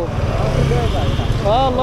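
A Hero XMR 210 motorcycle engine hums and rumbles steadily on a test drive, partly buried under someone talking close to the microphone.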